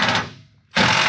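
A ground bolt being run back into the fender of a Ford Crown Victoria race car build, two close bursts of mechanical ratcheting whir separated by a brief pause, loud and alone.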